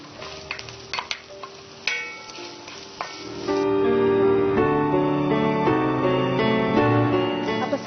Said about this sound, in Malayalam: ഈ പച്ചമുളകും ഇഞ്ചി ഒന്ന് ചെറുതായി വാടി തുടങ്ങുമ്പോൾ നമ്മൾ സവാളയും കൂടി ചേർക്കും